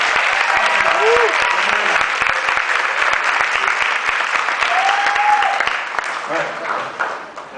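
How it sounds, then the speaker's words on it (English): Sustained applause from an audience for a panel at an Earth Day climate summit in Ventura County, a dense steady wash of clapping with scattered whoops and voices that tapers off near the end. "And a big round of applause for our panel."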